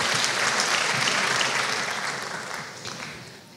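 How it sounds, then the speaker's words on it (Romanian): An audience claps steadily at a university chemistry graduation ceremony. The dense applause is loud at first and gradually fades toward the end, with no voices over it. "Încă un rând de aplauze pentru colegii noștri din anul 4"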